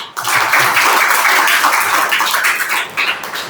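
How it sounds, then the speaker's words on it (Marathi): Loud, sustained applause from an audience filling a college hall during a special lecture, dense clapping holding steady for several seconds before easing slightly at the end. "आणखी जोरदार टाळ्या झाल्या पाहिजे"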